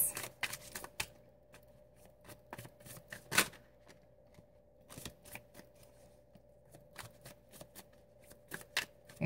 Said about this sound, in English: they are so slick that they're so big for my hand that they're hard for me to shuffle